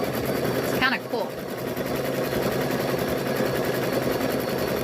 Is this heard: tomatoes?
no